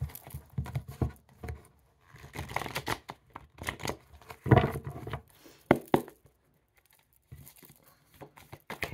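Playing cards being shuffled by hand, quick riffling bursts and soft paper flutters up close, broken by short pauses and a near-silent stretch.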